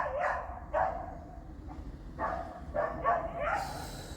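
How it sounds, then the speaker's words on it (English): Dogs bark in short bursts, several sharp barks spaced across a few seconds, moderately close and clear over a faint background hiss. "More untrained dogs in my area."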